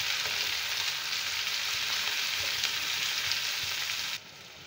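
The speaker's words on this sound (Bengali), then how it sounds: "সামান্য একটু ক্যাপসিকাম কুচি আর একটু টমেটো কুচি দিয়ে এবার এটাকে হালকা একটু সতে করে নেব" Chopped capsicum and tomato sautéing in a hot pan for an egg dish, a steady close sizzle with faint stirring scrapes, continuous and even before dropping slightly near the end.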